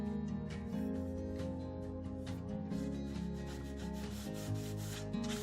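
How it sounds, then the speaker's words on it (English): Fine and then coarser grit sandpaper rubbing over a painted wooden heart, a continuous close scratchy rasp under soft background music, with no talking. "I lightly go over the heart with a fine grit sandpaper, but then I wanted to remove a little more of the paint, so I went over it again with a coarser grit"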